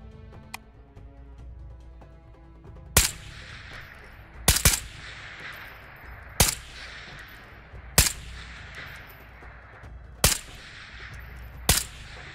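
Single gunshots in the video game Ghosts of Tabor, six sharp separate cracks spaced a second or two apart, each with a short decaying echo, over a low ambient hum with no talk.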